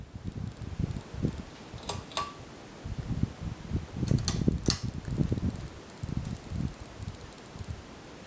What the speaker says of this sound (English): for low speed, which I'll show with the fan and light on running simultaneously